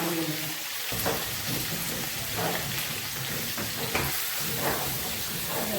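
Dried chilli and black seeds tempering in hot oil in a pan for a curry: a loud, steady, close sizzle broken by stirring scrapes, with no talking.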